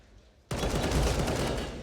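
Gunfire from a CS:GO grand-final match on the Nuke map: after a brief quiet stretch, a sudden loud burst of taps and short two-bullet bursts erupts close by and keeps ringing without pause.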